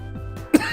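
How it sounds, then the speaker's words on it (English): A single short cough with a rough throat-clearing edge bursts out after a stretch of low steady hum, close and fairly loud, then fades into faint room tone. "I'm gonna cough."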